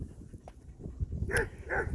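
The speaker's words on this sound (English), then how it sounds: "So we have a dog barking" Two short dog barks close together, fairly faint and somewhat distant, over a quiet, rumbling background.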